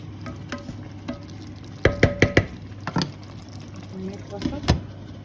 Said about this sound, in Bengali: সবগুলো চিকেন দিয়ে একটু কষাই দেব।